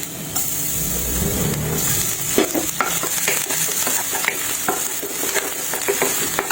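Ginger, garlic and onion sizzle in hot oil in a pan, a steady frying hiss with scattered clinks and scrapes of stirring, close and continuous.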